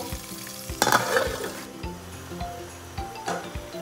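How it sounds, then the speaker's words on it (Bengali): Spice masala stirred and frying in hot oil in a pan, a steady sizzle with repeated scraping stir strokes, loudest in a burst near the start and settling into a continuous crackle. "এবার নেড়ে চেড়ে আমি যতক্ষণ পর্যন্ত এই মশলার উপর তেল বেশি না ওঠে ততক্ষণ পর্যন্ত আমি কষিয়ে নিব।"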